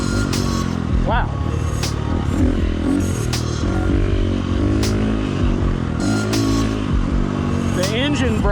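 A bike with a Tokyo Mods Vortex ECU revs repeatedly, the engine note rising sharply and dropping back in several bursts, loud and near, while someone talks over the noise.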